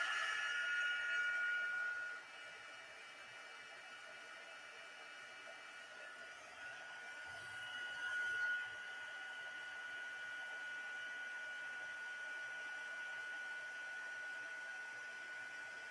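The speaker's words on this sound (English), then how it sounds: "Now I'm going to heat set it." A heat tool blows steadily while heat-setting clear embossing powder on a handmade card: a continuous close whooshing hum with a thin whine running through it, never pausing.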